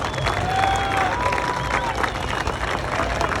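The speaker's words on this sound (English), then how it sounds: "Big round of applause for these guys." A crowd at the Arctic Cat Catalyst snowmobile reveal at Hay Days 2022 breaks into loud, sustained applause, with scattered cheers, whistles and voices mixed into the clapping throughout.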